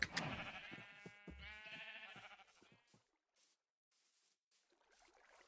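Sheep bleating in the video game Minecraft, several wavering bleats close together over the first three seconds, loud and clear, then fading to near silence with faint rustles.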